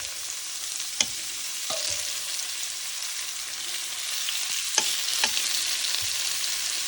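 Raw shrimp searing in a hot pan, a steady bright sizzle throughout with a few sharp clicks and pops of shrimp being dropped in and moved, close and alone.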